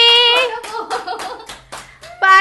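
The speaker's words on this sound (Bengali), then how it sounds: "হ্যাঁ, হাততালি।" Close, loud hand clapping at a family celebration after a registry marriage, about six sharp claps in an even rhythm, with voices calling out over them at the start and end.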